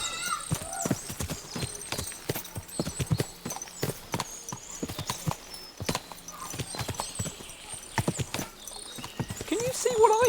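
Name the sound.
horses' hooves clip-clopping, from the video game Kingdom Come: Deliverance 2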